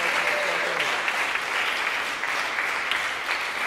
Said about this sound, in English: So big applause for Antonio.